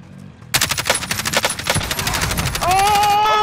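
A single loud gunshot cracks out in a video game, followed by rapid echoing shots and reverberation, ending in a sustained tonal ring.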